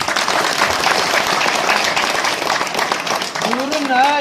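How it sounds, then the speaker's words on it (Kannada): A school audience applauds loudly and continuously, dense clapping filling the whole stretch, with a voice starting to speak over it near the end. "ಅವರಿಗೆ ನಮ್ಮ ಶಾಲೆ ವತಿಯಿಂದ ಇನ್ನೊಂದು ದೊಡ್ಡ ಚಪ್ಪಾಳೆ ಕೊಡೋಣ"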